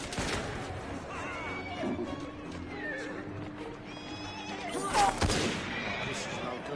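Gunfire in the Assassin's Creed Syndicate video game, a sharp burst of shots near the five-second mark amid horse whinnies, hoofbeats and game ambience, with a voice talking over parts of it.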